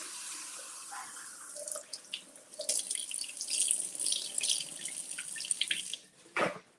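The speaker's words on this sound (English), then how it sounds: "we're going to give these a good rinse" Blueberries are rinsed under a running kitchen tap: water streams and splashes steadily, its spatter shifting as the berries are moved about, then a brief louder gush near the end, close and without voices.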